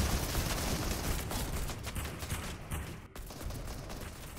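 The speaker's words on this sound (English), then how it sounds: "I'm getting shot at." Dense gunfire in the Fortnite video game, loud rapid bursts that blur into a constant crackling barrage, with one brief dropout partway through.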